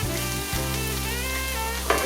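Cabbage frying in a pan for corned beef hash gives a loud, continuous close sizzle with a steady hiss, punctuated by a couple of brief stirring bumps, and no one speaks.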